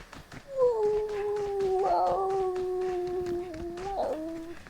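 A voice imitates a dog howl, two long wavering howls with a rising break in the middle and another near the end, close and fairly loud.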